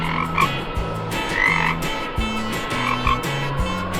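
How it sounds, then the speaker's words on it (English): A little cartoon frog croaks repeatedly and loudly in a steady rhythm over a low, bouncing backing tune, with no talking. "A little frog is hopping happily on the green grass."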